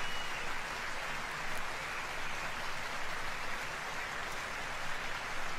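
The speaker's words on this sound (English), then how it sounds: "Man, this crowd really loved that outplay. They're really clapping." A crowd claps and applauds in a dense, even wash of many hands, steady and sustained at moderate volume without clear individual claps or voices.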